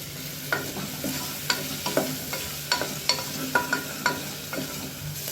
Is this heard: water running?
no